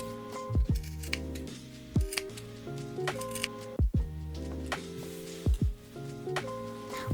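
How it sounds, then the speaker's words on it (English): Scissors snip notches into the fabric seam allowance around an apron dress armhole, a series of short, crisp cuts in small clusters, close and fairly quiet, with no talking. "Carefully cut notches into the seam allowance around the armhole."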